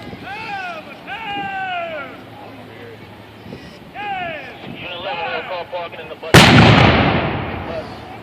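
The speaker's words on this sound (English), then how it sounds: "This gun fires a shot of approximately 3 pounds to a distance of approximately 1 mile." A Falcon cannon, an early 17th-century artillery piece firing a roughly 3-pound shot, goes off with one loud, close boom that rolls out into a long decaying rumble, after several seconds of someone talking over outdoor wind.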